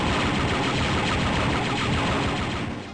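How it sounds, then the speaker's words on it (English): Rapid, continuous laser gunfire from Star Wars: Dark Forces, a dense unbroken barrage that stays loud and close for the full stretch with no talking over it. "Let's shoot the place up."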